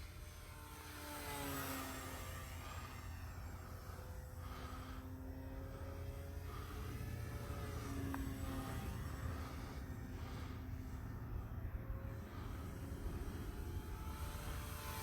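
An RC P-51 Mustang model plane flies overhead, its engine a steady droning buzz that rises and falls in pitch as it passes, fairly loud over outdoor background noise.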